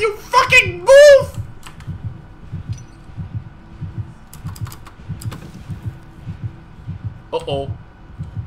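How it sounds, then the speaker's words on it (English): Heartbeat effect from the game Dead by Daylight, a steady low double-thump pulse repeating throughout under excited voices and brief squeals. "I don't like the heartbeat sounds."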